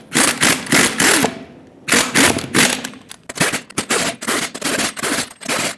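Front wheel lug nuts on a 2011-2018 Ram 2500 being tightened in a cross pattern: loud, rapid rattling bursts from a power tool, each lasting about a second with short gaps between, close up and without talk.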